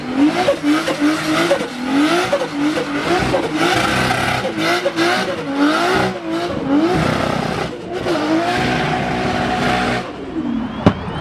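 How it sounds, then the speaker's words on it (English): A Rocket Bunny RX-7 engine revs hard and loud, surging up and down in repeated swells that mix with tire noise. The sound stays continuous through the clip and ends with a sharp pop near the end. "And this Rocket Bunny RX-7 sounds amazing."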